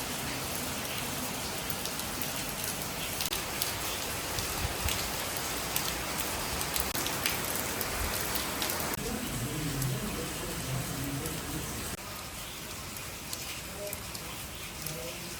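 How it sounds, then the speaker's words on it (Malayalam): Steady rain patters on surfaces, a dense hiss that continues for the whole stretch, quieter toward the end, with occasional faint sounds underneath. "മഴയൊക്കെ ഒന്ന് മാറട്ടെ"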